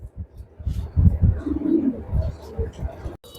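Racing pigeons coo in a loft with several low, throaty, rolling coos close by, coming in irregular bursts with short gaps between them.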